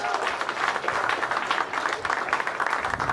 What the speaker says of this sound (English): Okay, give a round of applause.